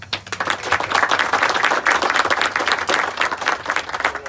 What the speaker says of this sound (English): round of applause for Florida Power and Light